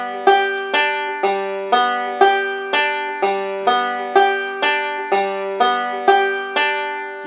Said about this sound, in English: So sometimes they call this the thumb index thumb middle roll.